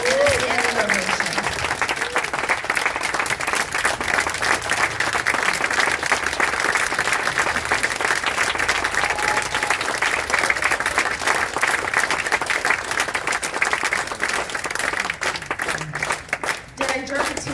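Sustained applause from a large audience at a life celebration, dense steady clapping continuing for the full stretch with occasional cheers and a few voices, thinning slightly near the end.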